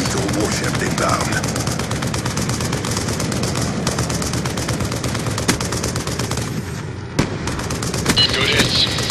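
Warship gunfire in Black Ops 2, with steady, rapid automatic cannon fire rattling on without pause and booming impacts mixed in, alongside game radio chatter.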